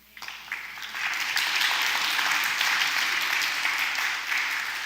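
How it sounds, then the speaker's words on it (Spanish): A church congregation breaks into loud, sustained applause, dense clapping that swells quickly and holds steady before easing slightly. "¿Cuántos le dan un fuerte aplauso a Dios?"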